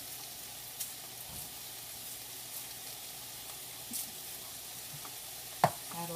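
Asparagus and peppers stir-frying in a pan give a soft, steady sizzle, quiet and continuous, with occasional faint clinks and stirring sounds and no talking.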